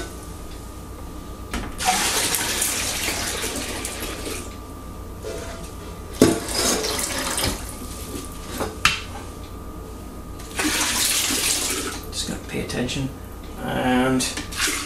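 Water pouring and splashing into a home brewing fermenter from a Coopers micro brew kit, filled to the 23-liter mark, in several loud bursts of rushing flow with quieter gaps between them.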